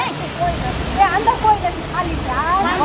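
Floodwater rushes loudly through the streets of Junagadh, Gujarat, after heavy rain, a continuous close roaring wash under a voice speaking throughout.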